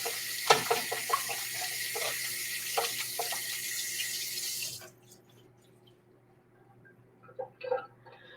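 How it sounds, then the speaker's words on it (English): Hands are rinsed under a running kitchen tap, a steady splashing hiss that stops abruptly after several seconds, followed by quiet handling sounds and a few soft knocks. "Let me rinse my hands."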